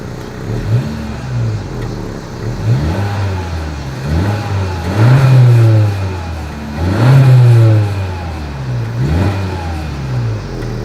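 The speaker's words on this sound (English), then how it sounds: "As always, here is that exhaust clip." Exhaust of a 2020 Honda Civic Hatchback with a dual-outlet setup, heard up close as repeated revs that swell and fall back to idle about five times, with no talking.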